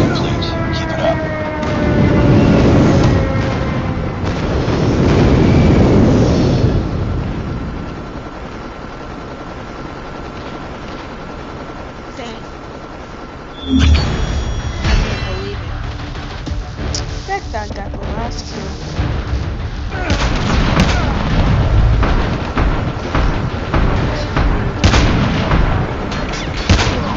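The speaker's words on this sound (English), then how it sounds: "friendly airstrike incoming" A friendly airstrike in Call of Duty lands as a series of heavy, rumbling explosions with broadband booms and distant gunfire. Game announcer voices and a player talking are heard alongside, all loud and close.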